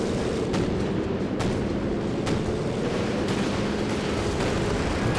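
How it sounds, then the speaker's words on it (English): Land Mattress rocket barrage in Company of Heroes 2 flattening a machine-gun building, a dense continuous roar of rocket impacts and explosions with sharp repeated cracks over several seconds. "land mattress barrage flattens the building with the machine gun inside as well"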